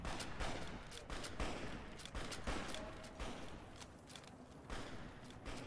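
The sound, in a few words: gunfire in the video game Fallout: New Vegas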